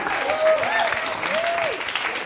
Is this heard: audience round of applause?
yes